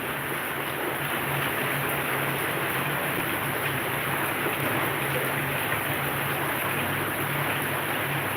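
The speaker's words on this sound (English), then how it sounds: "there's a lot of rain now" Heavy rain pours down in a steady, dense hiss that stays loud and unbroken from start to finish, with no voices over it.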